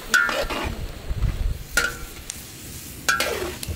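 Pork stirred and sizzling in a giant wok over an open fire, with three sharp scraping stirs of the utensil against the metal over a steady low crackle of frying.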